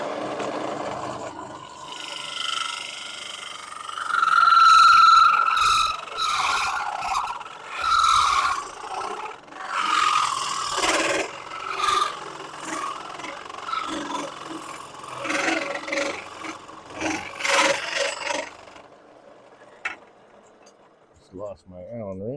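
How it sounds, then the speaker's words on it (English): A woodturning lathe cuts into very hard wood, producing a rasping, scraping whir that rises and falls across repeated passes, with someone talking over the machine. "But I'm really cutting into really hard wood"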